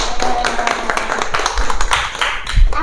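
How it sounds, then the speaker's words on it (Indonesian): Students in a classroom applauding a good question, a busy, slightly uneven patter of hand claps and taps nearby with some thumps, continuous for a few seconds. "Tepuk tangan dulu."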